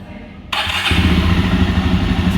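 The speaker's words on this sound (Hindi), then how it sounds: "बाइक को स्टार्ट करते हैं।" A Jawa 42 Bobber motorcycle starts up: a short starter whir, then the engine catches and settles into a loud, steady, thumping idle up close.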